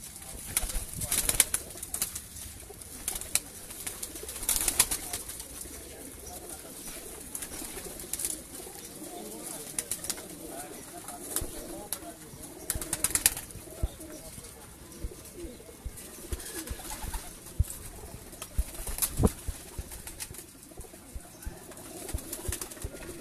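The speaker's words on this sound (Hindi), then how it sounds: "मोतियाँ वाले कबूतर इनमें काफ़ी ज़्यादा मौजूद हैं।" Breeder pigeons cooing on a rooftop in Sheikhupura, including pearl-type birds, give soft repeated coos over a steady outdoor background, with occasional faint chirps and brief wing flutters.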